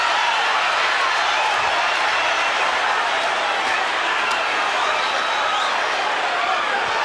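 Boxing arena crowd cheering throughout a Mike Tyson fight: a loud, continuous roar of many voices with scattered claps and shouts, steady without pauses.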